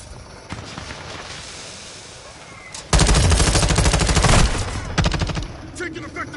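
Video game gunfire starts with scattered single shots, then a loud, close burst of rapid automatic fire runs for about two seconds, followed by further fast volleys and a few trailing shots.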